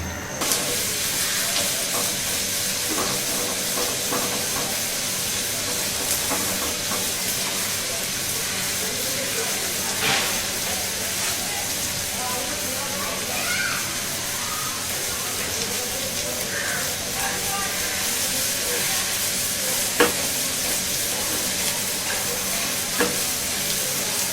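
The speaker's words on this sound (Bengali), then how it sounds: "আরেকটু কয়টা পেঁয়াজ ভাজবো" Onions fry in oil for a Bangladeshi hilsa fish curry with pineapple, making a loud, continuous close-up hiss and sizzle that runs unbroken throughout with only faint occasional stirring.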